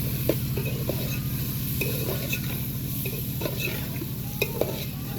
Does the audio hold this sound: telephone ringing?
no